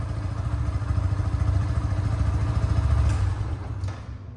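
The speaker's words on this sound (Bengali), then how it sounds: "রানিং অবস্থায় আছে বাইকটি" A 2023 Yamaha FZ-2 motorcycle idles steadily close by with a fast, even low putter and light mechanical clatter, moderately loud and alone.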